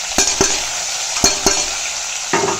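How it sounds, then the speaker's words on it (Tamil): Sliced bitter gourd sizzling in hot oil with fried urad dal, a steady close hiss broken by several sharp scrapes and taps of a spoon stirring the pan. "இப்போ இந்த பாவக்காயை போட்டு நல்லா வதக்கிக்கலாம்."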